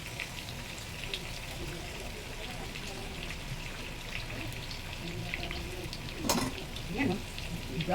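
Pork longganisa sausages frying with garlic in a pan, a steady close sizzle and crackle that runs throughout, with a few sharper spatters and pops near the end.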